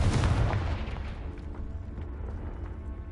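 A Confringo fire spell bursts in the Hogwarts Legacy video game, a loud booming blast at the start that decays into a rumbling, crackling tail.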